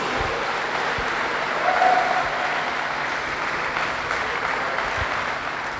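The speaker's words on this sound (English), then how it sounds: "please give a huge amount of applause" Audience applause at a press event for an international sports week in Curaçao, a steady wash of clapping sustained throughout at even loudness with a slight swell near two seconds.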